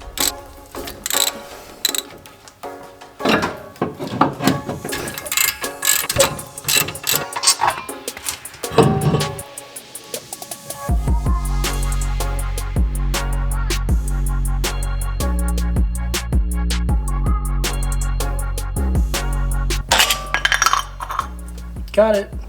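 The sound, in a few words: ratchet removing brake caliper and caliper bracket from car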